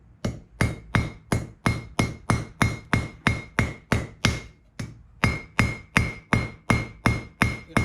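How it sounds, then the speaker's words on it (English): A hammer forges a troy-ounce silver bracelet in a steady run of about twenty sharp, ringing metallic blows, loud and close. One brief pause breaks the rhythm partway through. "Hammer it pretty hard."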